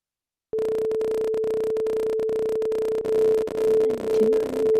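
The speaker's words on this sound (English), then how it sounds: "So I'll stick with the 440 and I'll start with 438, the 2 beats per second" Two pure tones near 440 Hz, one set a couple of hertz lower, sound together after a moment of silence, producing a steady hum that swells and fades in slow, regular beats.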